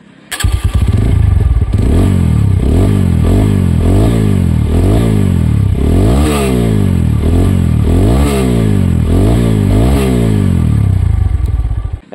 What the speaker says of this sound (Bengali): একজস্ট সাউন্ডটা আবার শোনাচ্ছি তোমাদেরকে